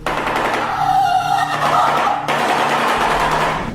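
A shoebill, a large African bird up to five feet wide, gives a loud, sustained clattering rattle that sounds like machine-gun fire. The dense staccato runs for nearly four seconds, with a brief break partway through.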